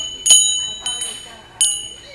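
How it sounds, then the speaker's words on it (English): A charity bell rings at a business entrance during the holiday giving season in Louisiana, giving three separate bright metallic strikes about two-thirds of a second apart, each ringing out and fading. "Those familiar bells ringing at businesses across the state this time of year are helping to raise money"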